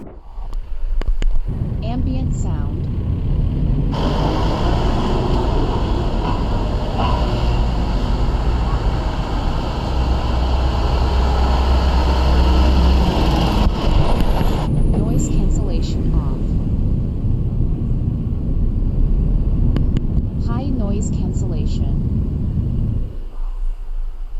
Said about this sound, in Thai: ในกลางเมืองที่ที่รถติดติดมีเสียงรบกวนเยอะๆ